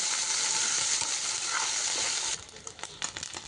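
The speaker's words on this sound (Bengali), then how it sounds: "ভালো করে চিংড়ি মাছটাকে ভেজে নিব" Shrimp fry in a pan with a dense sizzle for a couple of seconds, then the hiss drops off into a few scraping stir strokes and pops.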